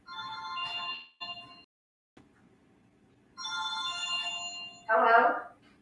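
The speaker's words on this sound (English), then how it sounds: "Phone's ringing." A phone ringtone plays indoors in a repeating melodic pattern, pausing briefly and then resuming, with a voice heard over the ringing.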